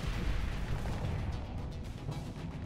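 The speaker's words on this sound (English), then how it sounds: "Can you stop firing those guns at me?" Spaceship guns fire in the Starsector space combat game, a continuous, fairly faint stream of booming, popping shots that blend into a rumbling barrage with no clear gaps.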